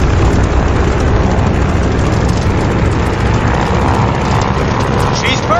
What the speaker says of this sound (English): All right, do an engine run-up. Make sure she doesn't blow out.